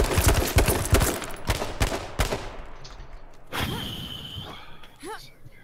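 Gunfire in H1Z1 King of the Kill, a rapid burst of loud close shots followed by a few spaced single shots, then a quieter rumble and a whistling sound as it trails off.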